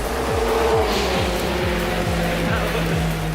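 A Ginetta G50 GT4 in the Supersport 1 class racing at the Red Bull Ring, its engine revving hard with rapid repeated upshifts, loud and close, under a faint commentary voice.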